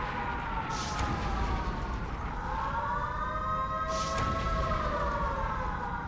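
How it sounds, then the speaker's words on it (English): A disaster siren from the video game SimCity 3000 rises and falls in long sweeping tones over a steady low rumble, loud and continuous throughout. "I will hit that siren for that one."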